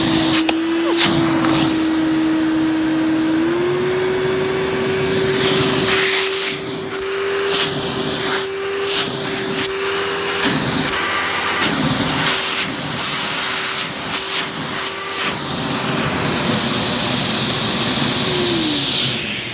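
A Samsung 15-inch Wide Clean upright vacuum cleaner runs on its minimum setting with the hose pulled out, a loud steady motor whine with a sustained tone that shifts pitch, broken by brief bumps and rustles of handling.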